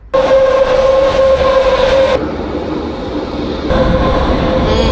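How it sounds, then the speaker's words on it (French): A Berlin metro train, loud and close, with a sustained electric whine and rumbling roar that drops in level midway, then swells again. "On va monter dans le métro."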